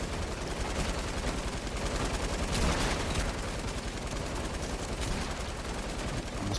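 Rapid bursts of gunfire in the Fortnite game rattle on continuously, dense and fairly loud, with no talk over it.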